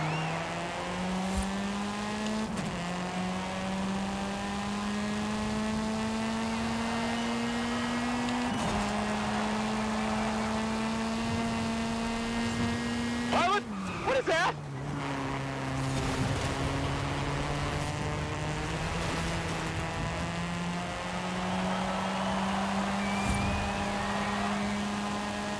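A supercar engine in the racing game Forza Horizon 5 revs steadily and loudly, its tone stepping up through gear changes with a brief sharp shift drop midway, running continuously without talk.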